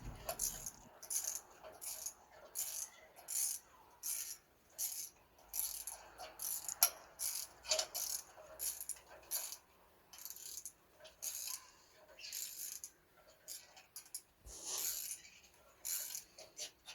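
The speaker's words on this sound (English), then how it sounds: "we're gonna lock the spindle with the hex key and the 16mm ratchet spanner to" Ratchet spanner, 16mm, tightening the nut on a Mini Countryman rear spindle held by a hex key, giving close, repeated bursts of quick metallic clicking with short pauses between strokes.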